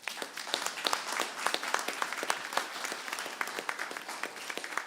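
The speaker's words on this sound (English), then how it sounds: "I would like you to help me applaud them." Audience applause at the COP28 climate conference: dense, steady clapping from many hands, sustained and fairly close.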